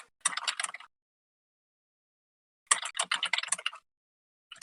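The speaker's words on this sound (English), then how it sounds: "Sorry for the loud keyboard." Loud computer keyboard typing comes in two quick bursts of rapid, clattering keystrokes, close to the microphone, with silence in between and no talk.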